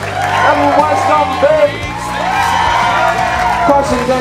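Concert crowd at the Crocodile cheering, whooping and applauding for the band's guitarist, a loud dense roar with high shouts rising above sustained ringing band tones.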